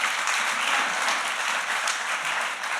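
A church congregation claps in sustained, dense applause, a steady even wash of many hands close by with no voices over it.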